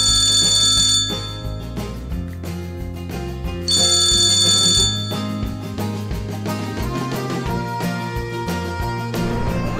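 A cartoon telephone rings in two bright, fast-trilling bursts, first at the start and again a few seconds later, over a steady cheerful children's music backing with no voices.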